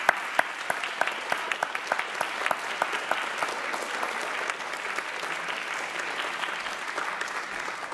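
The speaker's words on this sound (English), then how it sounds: "Let's give them a round of applause for their performances." Audience applauding accompanist pianists at a live concerto competition finals, a dense, steady wash of many hands clapping that holds for the whole stretch with a few sharper individual claps standing out.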